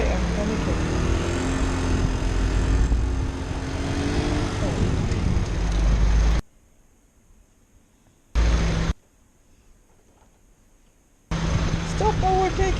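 A lorry overtakes a motorbike on a road, with loud rushing traffic and engine roar filling the first half, then cutting in and out with near-silent gaps; a voice speaks over the noise.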